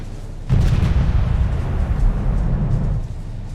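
Heavy naval gunfire and explosions from a WWII naval strategy video game, a dense continuous rumble of booms that kicks in abruptly and rolls on for about two and a half seconds before fading.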